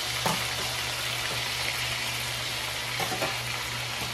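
Stingray simmering in coconut milk for ginataang pagi gives a continuous close sizzle with a low steady hum underneath and a few faint stirring knocks.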